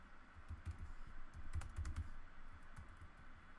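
Computer keyboard keys clatter in quick, irregular bursts while code is written, close but quiet, with brief pauses between runs of keystrokes and no speech.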